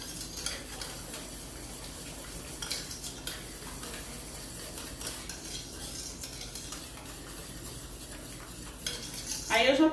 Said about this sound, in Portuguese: Aí eu já posso voltar para minha espátula aqui, porque a espátula, ela pega todos os cantinhos da panela